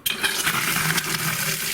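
Water gushes steadily from a newly installed tap into a sink, a continuous close hiss and splash with no voices.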